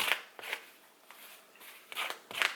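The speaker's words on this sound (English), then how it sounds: "you just want to take your scissors and just kind of drag across." Scissors dragged across a T-shirt to distress the fabric, giving a few short, quiet scratchy rasps in irregular bursts with pauses between, close up and faint.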